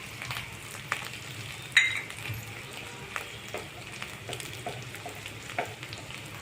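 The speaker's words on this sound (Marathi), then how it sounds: "आता छान परतून घेणे." A potato vada filling with crushed peanuts sautéing in a pan, giving a soft steady sizzle with light stirring scrapes and occasional clicks of a spoon.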